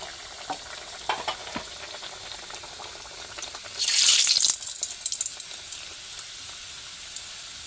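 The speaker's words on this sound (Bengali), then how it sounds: "এখন আমি তেলের মধ্যে দিয়ে দেব লুচিটা।" Rolled dalpuri, a lentil-stuffed flatbread, drops into hot oil in a Bangladeshi village home kitchen. A sudden loud burst of sizzling lasts about a second, then settles into softer crackling bubbles over a quiet background.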